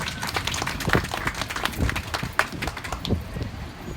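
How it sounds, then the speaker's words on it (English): An audience at a food pantry celebration claps in faint, scattered applause, a steady patter of handclaps in a room. "Let's give them a round of applause"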